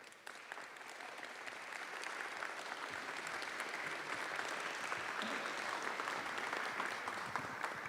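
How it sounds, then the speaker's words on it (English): An audience at a conference opening ceremony gives a round of applause, a dense, even clapping from a large crowd that holds steady for eight seconds, heard at some distance. "please give him a big round of applause"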